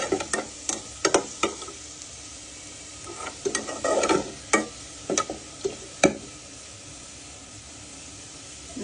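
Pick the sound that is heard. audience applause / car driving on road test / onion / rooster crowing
onion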